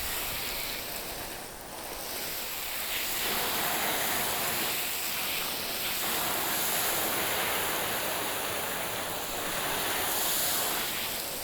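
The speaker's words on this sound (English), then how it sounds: "We're just going to hose it down and see what happens." Garden hose spraying water down onto a Bestop EZ-Roll soft tonneau cover on a Jeep Gladiator bed, a steady broad hiss of spray that wavers slightly as the stream moves, close and without talk.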